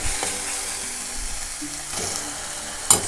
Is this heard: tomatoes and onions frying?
yes